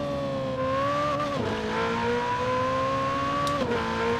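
A high-revving Ferrari 488 Pista engine in Forza Horizon 4 screams steadily, dipping briefly at gear shifts before climbing again, loud and close.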